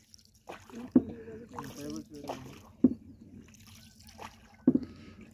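A small wooden rowboat, rowed by a woman, crosses a river in the Sundarbans coast. Oars splash and knock in a few sharp strokes about two seconds apart, under nearby voices talking.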